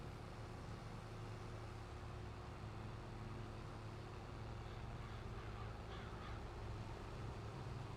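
Crows caw intermittently outdoors over a steady broadband background hum, with no talking.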